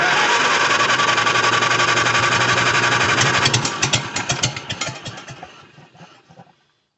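An IH 120 lawn mower engine runs loud and steady, then falters into uneven chugging pulses that slow and fade until it dies out.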